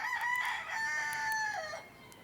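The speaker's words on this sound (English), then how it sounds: "You got a rooster trying to wake you up." A single rooster crows a clear, drawn-out cock-a-doodle-doo, moderately near, rising and then sliding down at the end before quiet.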